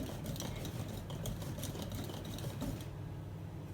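Fougasse dough is stirred in a bowl with steady, quick scraping and clinking strokes, close and fairly quiet, before the motion stops and falls nearly silent.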